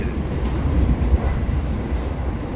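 A Cirebon Fakultatif passenger train with new-generation stainless steel cars, heard from inside as a steady, loud low rumble and roar of the moving train, with no talk.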